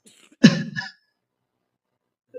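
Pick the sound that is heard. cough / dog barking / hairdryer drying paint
cough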